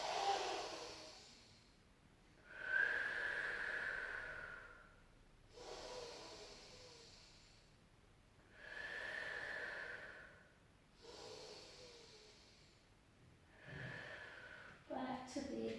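Slow, deep breaths during a Sunday morning stretching routine, with long airy inhales and exhales close to the mic, separated by quiet pauses.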